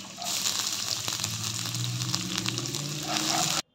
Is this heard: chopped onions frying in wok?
yes